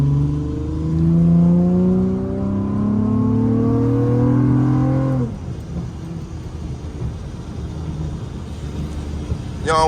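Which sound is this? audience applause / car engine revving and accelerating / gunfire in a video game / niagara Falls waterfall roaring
car engine revving and accelerating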